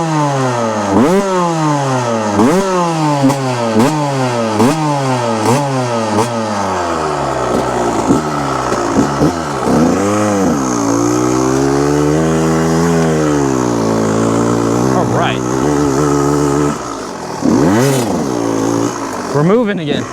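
A 1998 Kawasaki KX125 dirt bike engine revs up and down repeatedly in rhythmic surges while riding, then holds steadier pulls with occasional rises, loud and close throughout.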